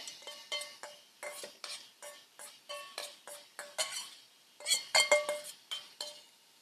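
Beef stir-fry with sauce tossed in a pan, a steady rhythm of metallic clinks and scrapes from utensil against pan, fairly close and moderate in level.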